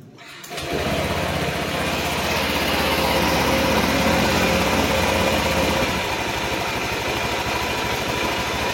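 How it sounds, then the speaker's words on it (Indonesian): A Honda Vario 150 scooter engine, run on a mix of diesel oil and cooking oil, starts after a brief quiet moment and settles into a steady, loud idle with a rattling hum. "kemudian kita coba nyalakan motornya Mbah"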